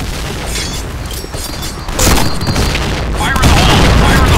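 Grenade blasts from a shooter video game land as booming bursts in quick succession, getting louder toward the end, with no talking in the mix.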